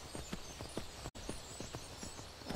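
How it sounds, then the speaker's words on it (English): A horse gallops in the fantasy game Skyrim, rapid rhythmic hoofbeats clopping close and steady over a dense ambient background, briefly cutting out for an instant midway. "get out the way of, you know, a horse coming at you full speed"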